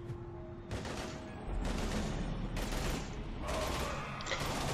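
Heavy gunfire in the video game Mass Effect 3, bursts of rapid shots and clattering fire coming in waves over steady background noise, fairly quiet overall with no speech.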